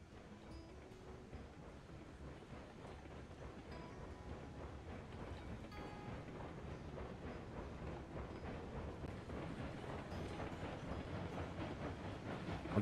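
Steady rumbling train in the Railroads Online video game, reversing slowly to unload, with continuous low wheel and car noise that grows slightly louder over time and no voices.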